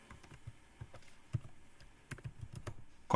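Typing on a computer keyboard while formatting a Word document: a sparse run of soft, close key taps at an uneven pace, with a quicker cluster near the end and no voice present.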